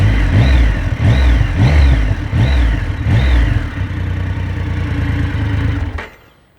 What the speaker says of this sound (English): Giving it a rev.